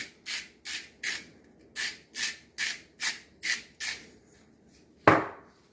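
Beef bourguignon ingredients are tossed with thyme and salt in a bowl, giving about ten regular scraping, rubbing strokes in a steady rhythm, close and clear, ending with one sharper knock.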